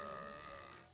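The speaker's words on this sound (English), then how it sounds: "Good belch." One brief, low, rumbling belch that fades out within about a second, recorded faintly during a 7 Days to Die game.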